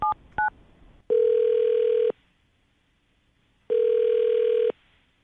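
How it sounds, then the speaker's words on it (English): A telephone call being placed: two quick dialing beeps, then two long, steady ringback tones separated by a pause, clear and close with no talking. "Landon, we're going to call her right now, see if we can get her on the phone"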